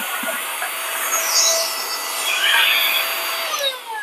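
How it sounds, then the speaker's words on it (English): A portable vacuum cleaner gives a steady, loud motorized whine with a hissing, airy roar throughout, briefly rising in pitch as it sucks over a coffee grinder. "you can just get a portable vacuum cleaner like this"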